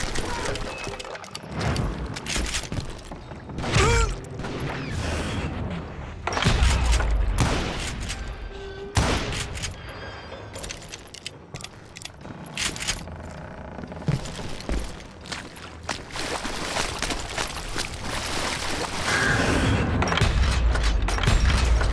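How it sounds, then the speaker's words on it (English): Rapid gunfire volley crackles from a Call of Juarez Gunslinger shootout against the Dalton brothers, dense overlapping shots and booms rolling on steadily over a game soundtrack, loud and continuous with brief lulls. "a fusillade of bullets come raining down from on high"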